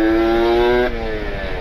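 A Kawasaki Ninja RR with a ported engine and an ABRT galvanized exhaust (40.5 pipe, 26 stinger) revs loudly and close, holding a steady high buzzing pitch before easing down.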